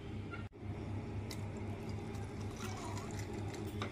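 Cooled, boiled herbal water for a homemade hair spray is poured and filtered, making a soft continuous trickle and splash with a sharp click at the start.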